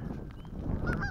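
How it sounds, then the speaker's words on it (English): Geese on a small lake give a few nasal honks over a low rumble of wind noise outdoors, calls fairly close and clear against the blustery background. "Nice geese here."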